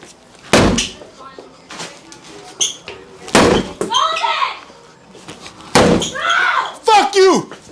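A door being banged and slammed hard, with several loud heavy impacts at irregular moments, mixed with loud angry shouting from people in the clip.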